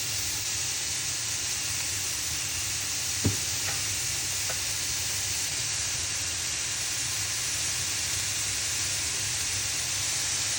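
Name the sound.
stirring beans and carrots frying in a pan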